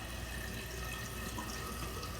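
Water running from an old bathroom faucet in a renovated jailhouse building, a steady close broadband hiss that continues without a break.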